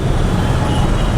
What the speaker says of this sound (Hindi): ये ट्रैफिक।